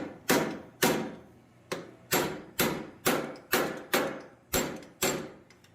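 A hammer taps forged steel butterfly wings held in a vise, striking about ten sharp, ringing blows at a steady, slightly uneven pace, close and loud with no talk.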